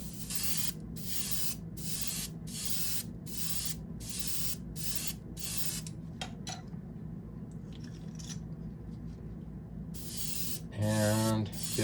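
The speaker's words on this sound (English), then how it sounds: "We'll see how this stuff sprays." Iridescent pink paint sprayed onto a bench in repeated short hissing aerosol bursts, close and steady, then a pause with faint clicks before a final spray over a low background hum.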